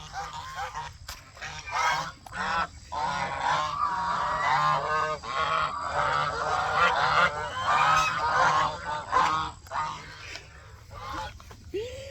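A group of startled birds honks over and over as they move away outdoors. The nasal calls overlap in a busy, continuous chorus.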